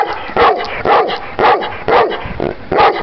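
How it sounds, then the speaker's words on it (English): A Presa Canario dog barks repeatedly and loudly up close, about six sharp woofs in a steady rhythm with short gaps, with no talking over them. "Why you always gotta bark, though?"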